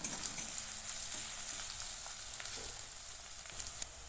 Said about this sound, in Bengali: মিহি করে কাটা পেঁয়াজ কুচি দিয়ে হালকা গোলাপি করে ভেজে নেব।